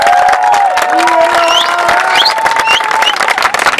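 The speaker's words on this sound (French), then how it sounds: "nous allons applaudir le président pour sa présence" An audience applauds and cheers for the president of the association of young leaders and entrepreneurs of Congo, a loud, dense, sustained clatter of many hands with tonal sounds ringing above it.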